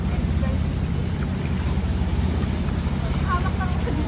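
Wind gusts at a riverside in Palawan, Philippines, a steady loud rush of blowing air and microphone buffeting that fills the whole stretch, with flowing water mixed in beneath.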